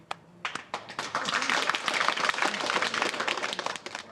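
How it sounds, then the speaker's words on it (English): A group of people claps in response to a light-hearted boast, starting with a few scattered claps that quickly build into brief, moderately loud applause with a hint of voices mixed in. "Round of applause for me."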